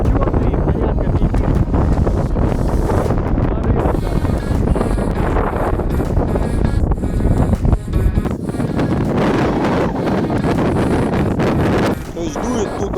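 Strong, gusty wind of roughly force 5 buffets the microphone in a continuous loud roar during a Hubsan Zino 2 Plus drone hand launch, with someone talking throughout.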